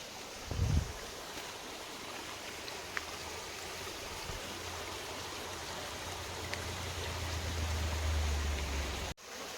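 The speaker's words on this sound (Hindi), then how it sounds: "तो चाहे पानी कम है लेकिन है तो वाटरफॉल ना।" Small waterfall stream near Chandigarh in winter, with low flow: a steady broadband wash of falling water runs throughout at moderate level, with a brief low thump near the start and a low rumble building toward the end.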